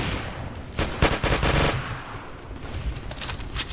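Gunfire from a sniper rifle in the Roblox video game Neighborhood War: a quick cluster of loud, sharp shots lands mid-clip over a busy game background, with a fainter crack near the end.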